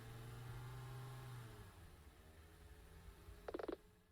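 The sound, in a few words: car (limo) engine approaching in video game Nina Aquila: Legal Eagle III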